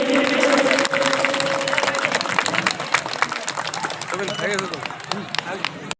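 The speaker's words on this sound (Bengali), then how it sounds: "সবাই একটু হাততালি দেবেন" Crowd applause at the opening ceremony of a pitha-puli and Baul folk fair in India, dense sustained clapping from a large audience, loud and continuous, with a voice speaking over it at the start.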